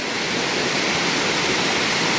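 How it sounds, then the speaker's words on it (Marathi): A waterfall at Kharle, Aparaj Wadi Mal, Chindar in Malvan, Konkan, roars with a dense, steady broadband rush that stays constant and loud throughout. "हा आहे आपला धबधबा"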